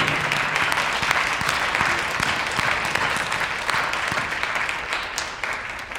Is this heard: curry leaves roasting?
no